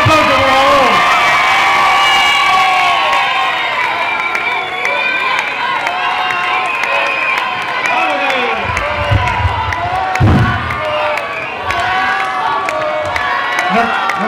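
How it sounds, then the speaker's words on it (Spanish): Crowd at a village festival in San Cristóbal de Entreviñas cheers and applauds, loud whoops and shouted voices over clapping in an outdoor gathering, sustained for many seconds with a few louder bursts near the end. "¡Un aplauso, por favor!"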